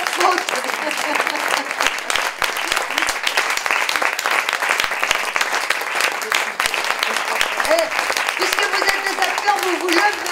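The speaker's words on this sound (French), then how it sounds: "Qui vous applaudit, qui vous remercie." Audience at a stage show applauding: sustained, dense clapping that holds loud and steady throughout, with voices mixed in underneath.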